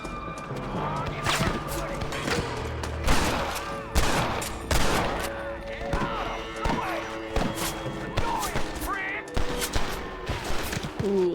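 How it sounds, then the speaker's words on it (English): Volleys of gunfire in the Red Dead Redemption video game, sharp shots cracking irregularly in quick succession while a person talks over them throughout. "Where are they shooting from?"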